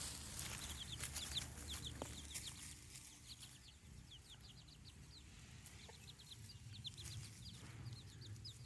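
Free-range chickens in a wild garden clucking softly, with many short, repeated clucks and chirps scattered over a quiet outdoor background, fairly faint and somewhat distant.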